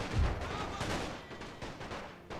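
Rifle fire from soldiers in the World War I video game The Great War, a crackle of overlapping shots with a deeper boom early on, continuing as scattered reports.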